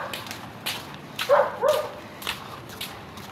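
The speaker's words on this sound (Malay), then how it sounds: "Kalau korang dengar macam ada bunyi gong-gong tu, itu anjing lah" A dog gives a few short, fairly distant barks and yips amid low outdoor background noise, the barks spaced irregularly across the moment.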